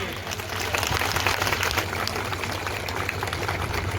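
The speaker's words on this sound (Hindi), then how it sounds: "तो जोरदार तालियों से आप स्वागत करिए" A crowd at a BSP political event in Jaunpur claps steadily, with dense, continuous applause and a low hum underneath.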